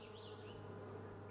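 Honey bees buzzing around a swarm, a steady, dense drone at close range, faint and continuous with no talking.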